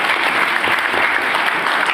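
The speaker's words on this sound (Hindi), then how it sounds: "तो तालियां जरूर बजाइएगा उस चीज के लिए।" Audience applause at a motivational productivity talk, a dense, steady clapping that fills the whole stretch with no voice over it.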